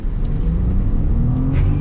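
A 2022 Range Rover with an inline-six engine accelerates at full throttle in its dynamic mode, a steady, loud engine rumble and whir heard from inside the cabin with no talk over it.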